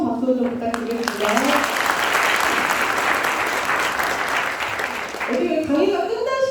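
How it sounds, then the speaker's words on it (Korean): An audience at a lecture on labor movement history bursts into steady, loud applause lasting several seconds, with a speaker's voice before and after it. "뜨거운 박수 좀 부탁드리겠습니다"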